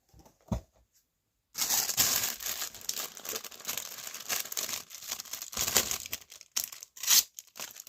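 Plastic baggie from G.I. Joe Classified 6-inch action figure packaging crinkled and torn open by hand, a long stretch of close, loud rustling and crumpling after a brief tap and pause.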